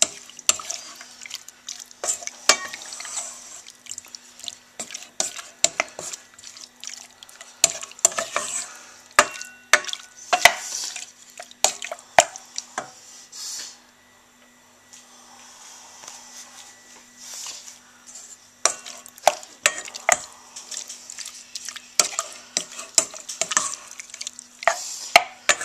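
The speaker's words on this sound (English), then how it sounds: "I've added the shrimp to the pan, and basically you're going to saute these for about a minute on a low heat." Shrimp sautéing in a pan on low heat, with a gentle sizzle under repeated scraping and stirring clatter that pauses briefly midway, close and fairly loud, no talk.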